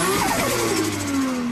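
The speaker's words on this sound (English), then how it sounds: "This is the engine that produces one of the greatest sounds known to man." A Nissan Skyline's RB26 engine revs steadily at close range, a loud sustained mid-pitched drone with rising and falling harmonics and no voices over it.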